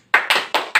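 Four quick, sharp claps in rapid succession, close and loud, with no voices over them.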